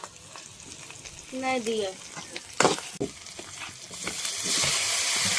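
Cumin seeds sizzle and crackle in hot oil in a pan for a tempering, a bright frying hiss under a short spoken phrase and some clattering, the sizzle swelling louder toward the end.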